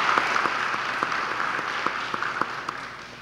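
A seated audience gives a sustained burst of applause to honor a colleague at a Parkinson's health center talk, a steady dense wash of clapping with a few sharper nearby claps, no talking over it.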